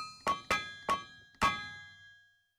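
Hammer striking an iron bloom at a bloomery in a Minecraft 1.18.2 modpack (ATM Gravitas): four sharp metallic clangs in quick, uneven succession, each ringing briefly with a bright tone before fading to silence.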